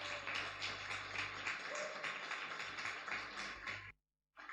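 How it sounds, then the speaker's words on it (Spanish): A church audience applauds with dense, steady clapping that swells in waves, then cuts to brief silence near the end. "Un aplauso para ustedes."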